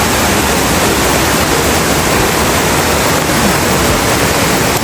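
Tanawan Falls in Dingalan roars as a steady, dense rush of falling water, loud and continuous throughout with no voices.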